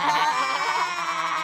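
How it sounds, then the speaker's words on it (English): A goat gives one sustained, wavering bleat, loud and close, with no other sound around it. "A goat with a secret."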